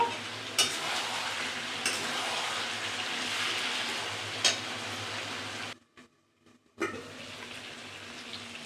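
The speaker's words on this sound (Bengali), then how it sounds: "সাথে আলুগুলো দিয়ে দিলাম, আর একটু কষিয়ে নেব।" Meat and potatoes sautéing and being stirred in a pan, a steady close sizzle with occasional utensil knocks, cutting out briefly near the end before resuming.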